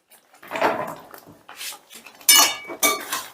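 Chopped vegetables tumble into a pan of cooked spice paste, a few close bursts of rattling and clattering as they hit the metal and get pushed around.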